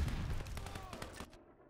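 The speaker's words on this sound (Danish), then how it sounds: "Der er et machine gun her." A machine gun in Call of Duty Vanguard fires a rapid string of sharp shots that stops abruptly after about a second, followed by a fading tail.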